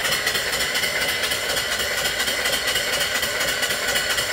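A mill steam engine with a 3-inch bore and 4-inch stroke runs slowly at about 100 RPM, giving a steady, even mechanical chuffing and rumble that stays close and constant throughout, with no talking.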